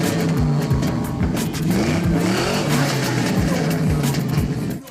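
A lowrider Chevrolet Impala with a 1997 Vortec engine and an upgraded cam revs hard and loud up close, the engine note rising and falling in repeated throttle blips for several seconds.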